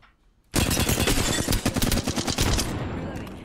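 Video game gunfire bursts in suddenly after a quiet half second: loud, close, rapid automatic shots in a dense stream that thins into scattered rounds toward the end.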